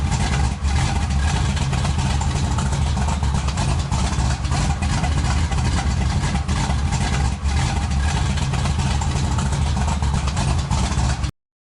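A 1957 Chevy Bel Air in the racing game Burnout Masters, its engine droning loud and steady throughout with a constant low rumble, no voices over it.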